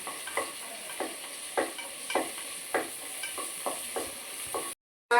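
Green chillies, about fifteen of them, sizzle and fry in a pan, steady frying hiss broken by repeated scraping stirs every half second or so, close and clear with no talk.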